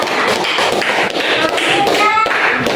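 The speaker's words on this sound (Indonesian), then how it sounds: "Tepuk tangan untuk kelompok 2." Classroom applause for a presentation group, a dense burst of hand clapping heard close and loud throughout, with voices mixed underneath.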